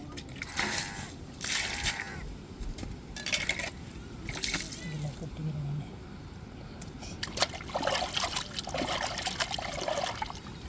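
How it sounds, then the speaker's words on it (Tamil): Carp being rinsed by hand in well water, with repeated splashes and trickling pours in bursts, close and moderately quiet, under occasional speech. "இப்போ நல்லா இங்கே அலசியாச்சு நம்ம கிணத்து தண்ணியில் நல்ல தண்ணியில் ஒரு அலசு அலசிட்டு"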